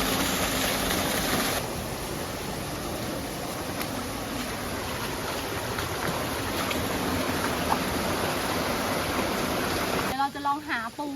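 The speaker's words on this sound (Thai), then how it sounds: "น้ำตกก็สวยนะ" A waterfall below a tall cliff pours with a steady, broad rushing roar that holds evenly for about ten seconds, and a voice speaks briefly near the end.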